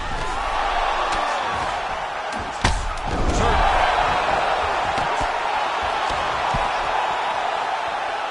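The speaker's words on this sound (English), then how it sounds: "So the crowd voicing its appreciation after that round." Arena crowd at UFC 245 cheering after a round, a sustained roar of many voices with a sharp thud near the middle, filling the whole stretch.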